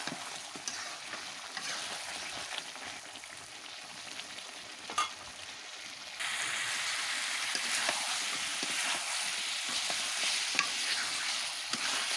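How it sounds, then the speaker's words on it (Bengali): Beef and potatoes stir-fry in a pot over a clay stove, a continuous close sizzle with scraping stirs, the hiss growing louder partway through. "এখন আলু সহ মাংসগুলো আবারও কষিয়ে নেবো"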